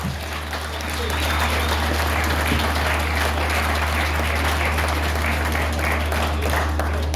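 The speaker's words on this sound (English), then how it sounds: "big round of applause, please, for Ian Simpson" Applause from a room audience welcoming a guest at an evening interview event during a Honda festival at Cadwell Park race circuit, a steady wash of clapping with a constant low hum beneath and faint voices.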